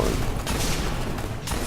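Continuous rapid gunfire in the shooter game Destiny, a dense, steady barrage of shots that stays loud and close for the whole stretch, with no voices.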